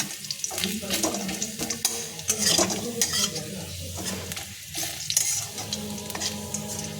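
Garlic fries in hot oil in a pan, a steady crackling sizzle broken by frequent scraping and clinking stirs of a utensil against the metal, fairly close and continuous.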